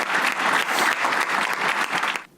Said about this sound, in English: let's give all these guys a round of applause real quick.